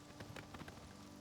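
Faint, quick hoofbeats of a galloping horse in a video game, a short run of soft, irregular clip-clop thuds heard at a distance.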